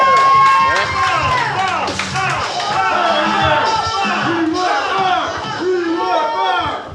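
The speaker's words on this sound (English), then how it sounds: "Wow, a chant that had no rhythm whatsoever." A comedy club audience chants without a steady rhythm. Many overlapping voices shout loudly up close, with scattered claps and cheers mixed in.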